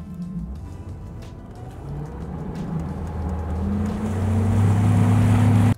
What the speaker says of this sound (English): bring the boat to a cruising speed at a constant heading